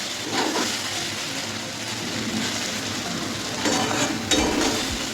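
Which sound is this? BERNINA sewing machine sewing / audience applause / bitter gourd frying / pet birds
bitter gourd frying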